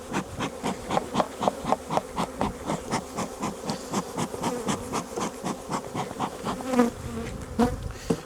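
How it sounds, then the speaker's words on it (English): Honey bees buzz densely around a hive, with a steady hum broken by rhythmic scraping or brushing sounds close by. "you still have bees flying about everywhere"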